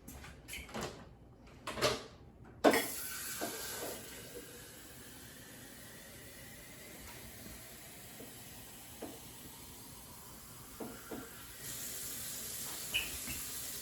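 Water pours steadily into a Nesco Carey pressure canner, 2.5 quarts in all, with a hissing, splashy flow that starts after a few sharp knocks, then eases and returns louder near the end.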